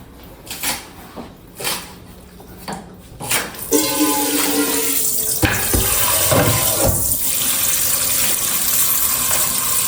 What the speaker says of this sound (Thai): เราจะเอาน้ำมาใส่หม้อเพื่อเอาไปลวกผักนะครับ